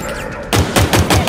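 Pistol fire in the Halo Infinite campaign: after a short quiet stretch, a rapid string of loud, punchy shots cracks out at an even, quick rhythm, close and dominant.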